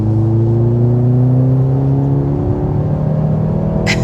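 A 2023 Mercedes C43 AMG accelerating from a stop, its engine drone loud and close as the pitch climbs smoothly with a brief higher whir near the end.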